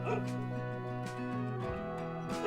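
A dog in a children's reading-book story, short yapping barks in a quick run, with a voice that may be imitating them, close and fairly quiet.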